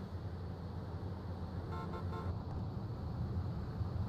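A limousine horn honks in GTA 3 Definitive Edition, a few short toots over steady engine and road noise.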